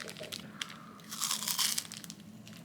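Someone bites into a Nutty Buddy peanut butter wafer bar, producing a few close, crisp crunches and crinkly wrapper-like rustles over a couple of seconds, with no speech.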